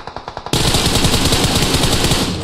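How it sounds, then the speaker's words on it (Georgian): Automatic gunfire in the video game PUBG Mobile: a quick run of five sharp, separate shots, then a loud, dense, unbroken burst of rapid fire that fills the rest of the clip. "სროლები და სროლები."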